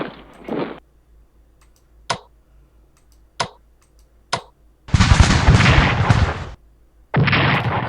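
Cannon fire in the Strategic Command American Civil War strategy game: a brief rumble, then three sharp separate shots spaced about a second apart, followed by two long, loud roaring barrages of gunfire.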